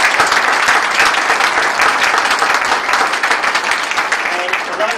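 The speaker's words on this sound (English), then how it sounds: "Guys, one more round of applause." A real estate office team claps in a loud, sustained round of applause during a presentation, many hands at once forming a dense, even roar for five seconds, close and strong throughout.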